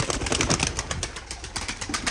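Pigeons cooing in a coop, soft repeated bird calls close by against a busy, noisy background over about two seconds.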